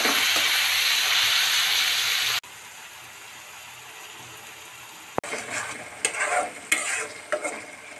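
Shrimp frying with wet tomatoes in mustard oil for a shrimp bhuna, loud close hissing sizzle at first, then quieter frying broken by sharp stirring clatters and scrapes of a utensil against the pan.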